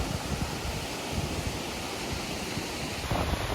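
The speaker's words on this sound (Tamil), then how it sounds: "கொஞ்சமாக தான் பாயுது பாருங்க" Water pours through a sluice gate at Iranamadu reservoir in Sri Lanka, a steady broadband rush and roar that holds constant and close for the whole stretch without any voices.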